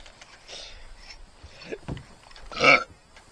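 A short throaty burp near the end, preceded by quieter shuffling sounds and small noises.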